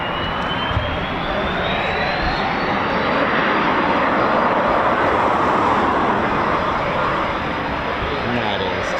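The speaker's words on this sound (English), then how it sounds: "listen to those engines." Eurofighter Typhoon FGR4 jet engines roar steadily at RAF Coningsby, a loud, continuous broadband rumble with a faint rising whine, sustained throughout with no let-up.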